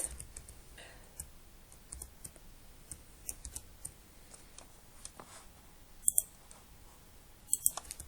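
Typing Python code on a computer keyboard, a quiet, irregular run of light key clicks with a couple of sharper, louder taps near the end, close and alone.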